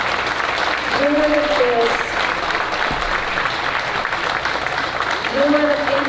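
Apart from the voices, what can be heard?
audience applause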